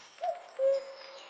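A wise owl in an animated children's story gives two soft hooting calls, a short one followed by a longer, steadier hoot, close and clear over quiet background.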